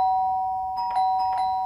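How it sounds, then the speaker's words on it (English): A doorbell rings with a clear, sustained electronic tone, followed by a few quick repeated chimes, heard alone in a quiet indoor setting. "Now she's ringing our bell."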